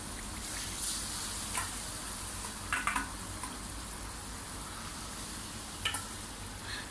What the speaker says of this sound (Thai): พอน้ำมันร้อน ต่อมาเราก็ทำการใส่หมูครับ